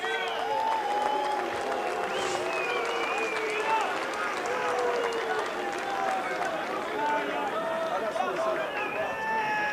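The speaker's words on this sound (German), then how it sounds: "ein Applaus an den heute Abend unterlegenen Boxer" Boxing arena crowd applauding the losing boxer after a heavyweight title fight, a broad wash of clapping and cheering with crowd chatter and loud voices throughout, steady in level.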